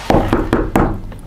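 Four firm knocks on a wooden door, evenly spaced, then a faint fifth tap, loud and close as a sound effect in a spooky storytelling piece.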